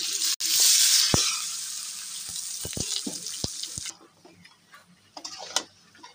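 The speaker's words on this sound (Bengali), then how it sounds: "এখন আমরা যে মাংসটা মেখে রেখেছিলাম সেই মাংসটা ঢেলে দেব।" Marinated broiler chicken tipped into a pan of browned fried onions, village-style cooking, bursting into a loud hiss that gradually settles into quieter sizzling, with a few sharp clicks and knocks from utensils.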